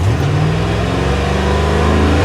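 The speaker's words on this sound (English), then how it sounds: "Yeah, there, it's revving." A 2015 RAM 1500 pickup with an electronic throttle fault revs loudly up close, a steady low engine drone with a rising harmonic sweep, alone without speech.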